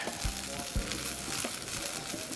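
Onions frying and starting to caramelize in a pan for a pork chop dish give a steady, close sizzle with a few soft low thumps and no talking.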